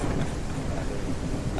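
Heavy rain and deep rumbling thunder in a video game MMO, a loud continuous wash of downpour and low roar that fills the sound with no speech.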